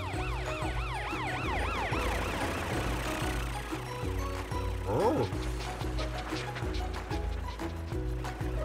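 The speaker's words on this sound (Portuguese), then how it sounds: "Matt, você pode ligar a sua luz e as sirenes?" A loud wailing emergency siren rises and falls continuously, with another siren tone overlapping and a brief voice partway through.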